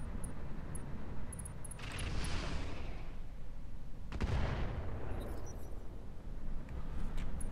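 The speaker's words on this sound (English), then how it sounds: "Taking the shot. Hopefully you guys enjoy that barrage." Artillery barrage from mechs in the Roguetech battle game: two heavy rumbling bursts of explosions a couple of seconds apart, each swelling and then fading, loud over a constant low background roar.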